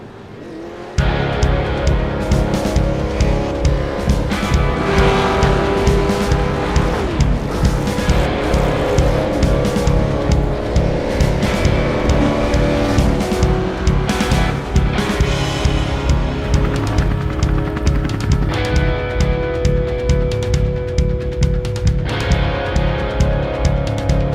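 V8 race cars at Silverstone circuit roar loudly and continuously in a close pack, engines rising and falling through gear changes with occasional tyre squeal as the field gets under way.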